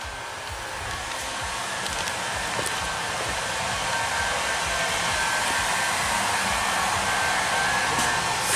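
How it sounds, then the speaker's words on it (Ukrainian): A hair dryer runs steadily throughout in a car headlight repair workshop, a constant loud whooshing hum with no pauses or talk. "зараз як я виключу фен"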